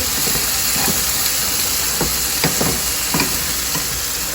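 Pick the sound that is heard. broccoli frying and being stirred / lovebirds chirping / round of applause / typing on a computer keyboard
broccoli frying and being stirred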